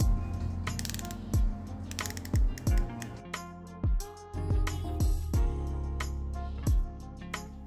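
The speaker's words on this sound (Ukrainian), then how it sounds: "Чорний керамічний безель на 60 кліків." Black ceramic 60-click bezel on an EDOX SkyDiver Neptunian dive watch being turned, giving a series of crisp, close, irregularly spaced clicks with no talking.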